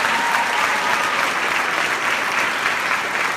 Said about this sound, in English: how about we give a round of applause to all our unified Bocce team members?